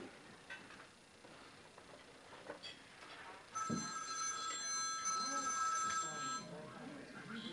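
A cell phone rings with a bright, repeating electronic tone partway through, mixed with background talk in a room.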